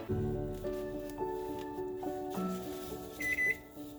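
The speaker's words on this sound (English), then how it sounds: "my microwave is yelling at me" A microwave oven beeps in a short series of electronic tones, fairly close, with a higher-pitched beep near the end and no talking.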